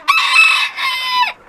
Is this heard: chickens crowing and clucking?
yes